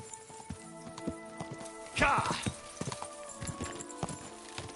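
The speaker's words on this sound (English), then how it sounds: "vem de cavalo esse cara." Horse hooves clip-clop in a Kingdom Come: Deliverance II game scene, an uneven rhythmic patter drawing nearer, with a brief louder burst partway through and a voice talking over it.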